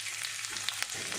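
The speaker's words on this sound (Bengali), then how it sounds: "এখানে তেলটা গরম হয়ে গেছে, আমি প্রথমে রসুন দিয়েছি।" Chopped garlic hits hot oil in a pan for a chicken pasta dish, giving a short, steady close-up sizzle with a few light crackles and no voices.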